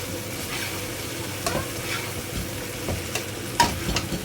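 Chicken meatballs being stirred into cooked tomatoes and green chili in a pan, with a soft steady sizzle and occasional scraping clinks of the utensil, close and fairly quiet, no talking.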